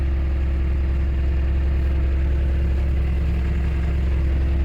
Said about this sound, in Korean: 여기 시동이 걸린 겁니다